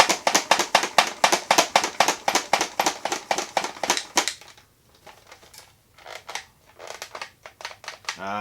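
A used, cracked-handle Nerf blaster is pumped rapidly about twenty times in a steady rhythm of sharp plastic clacks, then after a brief pause gives a few softer clicks and a firing puff, close and loud, with no talking.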